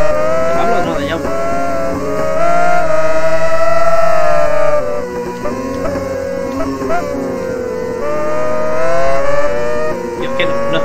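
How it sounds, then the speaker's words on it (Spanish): Honda CBR superbikes race on a circuit, a loud sustained engine whine rising and falling steadily as they run flat out, with people talking over it. "Si alcanzamos a la CBR de Pablo."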